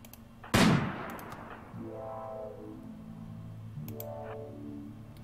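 A single sharp sniper rifle shot from the video game Rimworld cracks loudly, followed by a quiet tonal swell of game sounds and a faint click later, with no speech.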